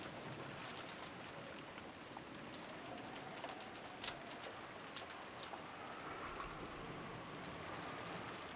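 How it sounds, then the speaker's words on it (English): Soft, steady rain patters evenly in the video game Umineko When They Cry, a quiet continuous hiss with one faint brighter drip-like tick midway. "Oh, we get the soothing sound of rain for the break."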